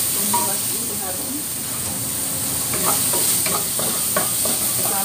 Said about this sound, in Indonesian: masukin bawang putih sama bawang merahnya, tumis lagi harum